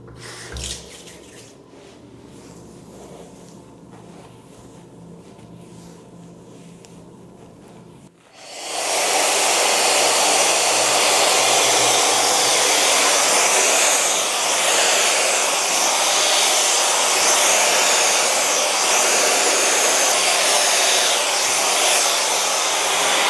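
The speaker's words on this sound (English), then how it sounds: "I'm going to just blow dry the rest of my hair" A hair dryer blow-dries hair during an at-home silk press: a quiet bathroom stretch gives way to the dryer switching on and roaring loudly and steadily for about fifteen seconds, close and alone.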